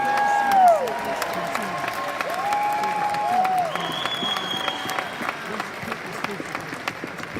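A conference crowd at a Karatbars blockchain event in Amsterdam applauds, steady clapping throughout at moderate level, overlaid by amplified voices and tones, with individual claps standing out toward the end.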